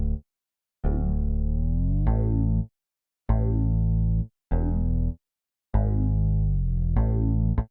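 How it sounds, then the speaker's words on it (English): Morphine synth bass preset Bass Resonance Square FG playing a melody in a Ghetto Love beat: loud, rich harmonic notes in phrases with gliding pitch, separated by short silences, no voices. "this is like my favorite bass preset on Morphine now"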